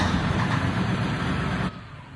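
A semi-truck engine in the video game Farming Simulator 19, heard from the cab as a steady low rumbling drone that cuts off abruptly near the end.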